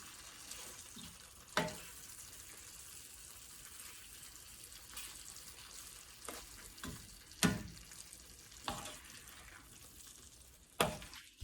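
Food in a pan is pressed with the back of a spoon for pork keto burritos, giving faint low sizzling punctuated by several sharp scraping clacks of the spoon at irregular intervals.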